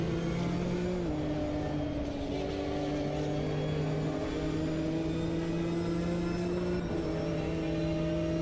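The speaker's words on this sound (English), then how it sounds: "Oh, that Maserati sounds good behind me." Maserati race car engine in the Automobilista 2 racing game, a sustained loud tonal drone that holds steady, dips briefly as gears shift around one second and again near seven seconds, then climbs, with no speech.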